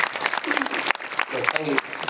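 Audience clapping at a kirtan, a short burst of applause close by, mixed with someone speaking over it.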